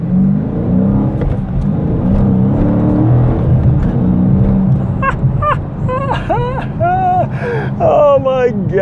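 A Dodge Challenger R/T Scat Pack with a 485-horsepower V8 pulls hard. The engine gives a loud, steady roar that climbs through rising revs with clear gear changes near the end, heard from inside the car.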